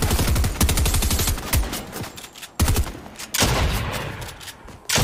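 Automatic gunfire in the Fortnite video game, loud, rapid rattling bursts repeating in several long volleys with brief gaps, close and dominant.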